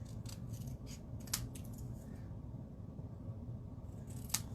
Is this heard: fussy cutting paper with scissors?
yes